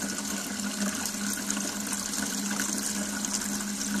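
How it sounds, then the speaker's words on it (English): Coolant rushing at high flow through the 3/4-inch hoses and fittings of a BMW E39 electric-vehicle conversion cooling system, a steady, even watery hiss with a constant low pump hum and no talking. "We've got a very high flow of coolant going on in there."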